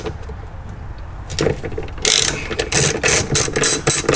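A ratchet clicks steadily as it loosens a T50 Torx seat belt bolt inside a BMW M3, starting as quiet background and turning into loud, close, rapid bursts of ratcheting in the second half.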